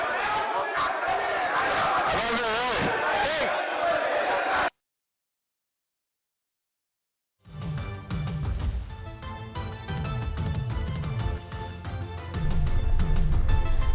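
AIADMK MLAs shout slogans together inside the state assembly chamber. A loud, dense crowd of voices fills the first few seconds, then cuts to silence before music starts.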